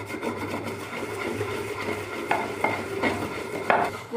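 Salt being rubbed by hand into raw horse masala, a continuous close grinding and rasping scrub with a few sharper knocks near the end, with no voices.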